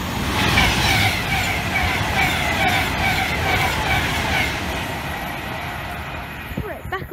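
Avanti West Coast Class 390 train at Berkhamsted station, a loud sustained rumble and roar of the passing train with rattling wheel noise throughout, fading slightly toward the end.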